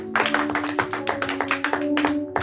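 A congregation at a Mother's Day church service claps in acclamation, with quick, fairly regular claps in a sustained burst, moderately loud, with a faint tonal hum beneath.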